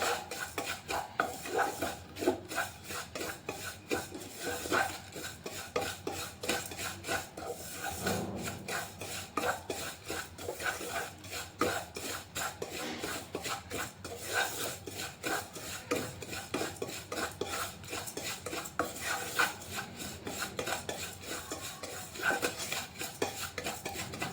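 Vermicelli being stirred and dry-roasted in a pan for tharikanji: a steady, close, continuous scraping and rasping of a utensil against the pan, with no talking.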